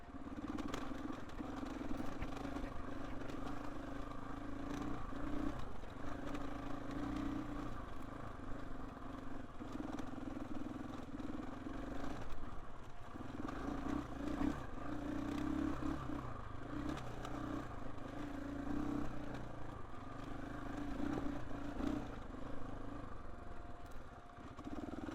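A KTM 450 EXC-F dirt bike ridden along a trail, its engine a steady, fairly faint buzzing drone with small rises and falls, mixed with scraping and rattling from the terrain, and no talk.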